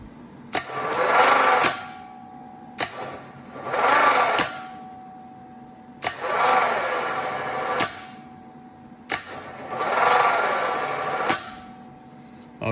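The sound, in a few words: aircooled VW starter motor running on bench test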